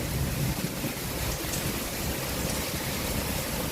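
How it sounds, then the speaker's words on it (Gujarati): A continuous rushing hiss of heavy, wind-driven rain, steady and enveloping, with no voices. "વરસાદની સાથે પવન પણ છે"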